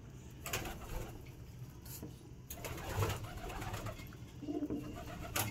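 Domestic pigeons coo in low, soft murmurs inside a pigeon loft, faint against steady background noise, with a few clinks and light rustles.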